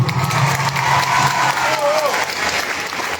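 A crowd at an Andean folk festival in Lima claps and cheers for the band, a dense, loud wash of applause with a brief tonal whistle or voice sliding through the middle.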